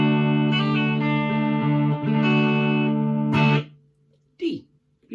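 A guitar chord strummed several times during a beginner lesson, the notes ringing out loud and close for a few seconds before being cut off, followed by a brief bit of speech.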